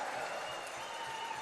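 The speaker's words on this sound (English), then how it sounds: "Loud cheer from the Rebels contingent on our right here" Fort Saskatchewan Rebels fans in a junior B lacrosse arena let out a loud, sustained cheer in the final minute of play, a steady wash of crowd noise with a commentator talking over it.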